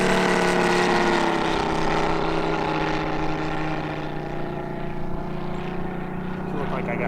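A TopRC T-28 Trojan, a large 111-inch full-composite RC model plane with a UMS 180 engine, flies with a loud, steady engine drone that fades slightly midway, and a voice comes through faintly under it.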